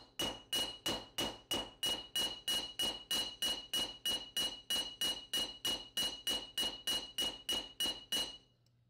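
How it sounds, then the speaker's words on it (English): A hammer strikes flattened pipe metal on an anvil, about two dozen sharp ringing blows in a fast, steady rhythm, close and loud, each with a bright metallic ring, ending abruptly. "now I'm over at the anvil with a hammer and I'm flattening out that material"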